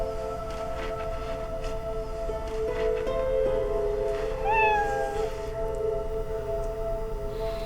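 A broken toy cat gives out a single short, faint electronic meow partway through, over a steady hum of background tones in a quiet room.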